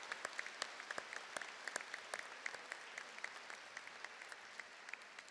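A crowd at a university commencement ceremony applauds steadily, many hands clapping in a dense, even patter that continues throughout at moderate volume.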